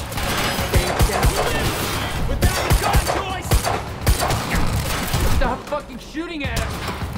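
Rapid gunfire in the video game Quantum Break, with sharp repeated shots and bursts cracking close and loud amid crashing impacts, while voices shout over the firefight.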